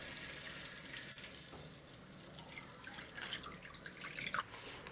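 A small bowl of water is poured into a hot wok over chilli oil with bean paste and garlic, a dense watery splash and sizzle rising toward the end, close and continuous without talking.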